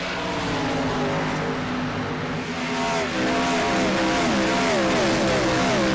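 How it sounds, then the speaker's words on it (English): Several race cars roar past with rising and falling engine whines that overlap, loud and continuous, with no talking. "those cars sound so good"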